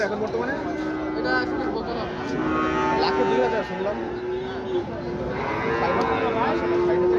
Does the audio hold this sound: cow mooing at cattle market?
yes